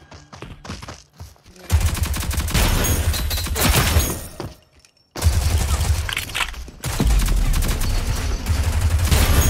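Video game gunfire in a multiplayer shooter: dense bursts of rapid automatic shots and heavy blasts, loud and close, in long sustained stretches broken by a short pause, with a few quieter taps at the start.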